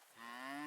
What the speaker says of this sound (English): Lady Grey was my most recent cow